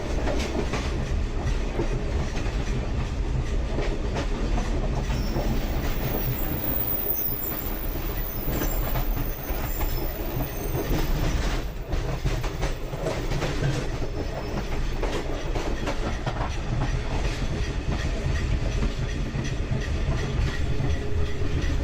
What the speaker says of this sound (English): We catch a glimpse of a work train with a TGM8 locomotive doing some shunting here.